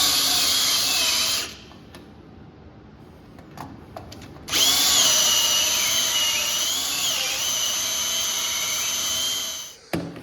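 A power drill spins a rigid cylinder hone in a shop, whirring loudly in two long runs separated by a quieter pause with small clicks, its pitch wavering slightly under load.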